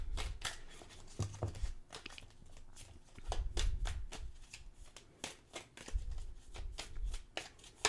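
A deck of cards is shuffled by hand, quick riffling bursts and soft tapping repeating in uneven rhythm, close and fairly quiet with no talking.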